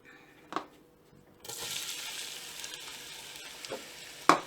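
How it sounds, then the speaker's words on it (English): Finely chopped onions hit hot ghee: a quiet start with a couple of knocks, then a steady, broad sizzle of frying that holds to the end, with a sharp clatter near the close. "When it's hot, add 2 large"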